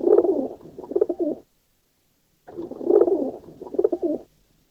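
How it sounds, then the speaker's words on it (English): Two pigeons, a pair of homing pigeons, coo inside a basket in two rhythmic bursts of soft, throaty calls separated by a short pause, close and clear with no talking. "I've got 2 of my pigeons in here."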